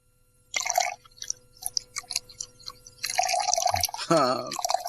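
Brandy pours into a glass with close, trickling liquid sounds and drips, broken by short pauses and finishing in a longer gurgling pour.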